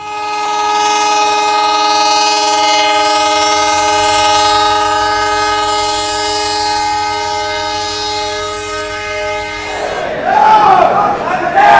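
A train near the Pamban Bridge on the Rameshwaram–Chennai route sounds a long, loud, steady horn for nearly ten seconds, then rumbling and clatter take over as it passes close by.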